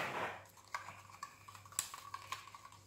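Burnt sienna, raw umber and bronze paint are stirred together in a cup, giving faint, irregular clicks and light scraping taps of the stirring tool against the cup's side, soft and close.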